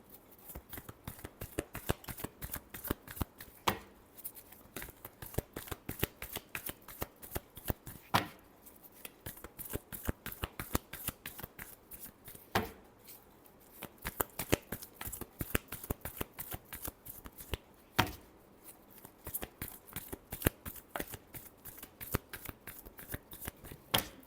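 Tarot cards being shuffled by hand in rapid riffling bursts, dense crisp flutters repeating with brief pauses between, fairly soft and close, with no talking.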